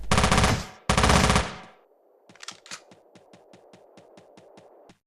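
Gunfire in the video game Teleglitch: two loud sustained bursts, then a quieter run of rapid evenly spaced shots.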